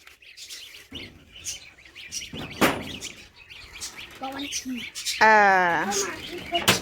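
Two newly bought yellow pet budgerigars chirp close by in bright, rapid bursts, with a loud run of calls near the end, while people talk excitedly around them.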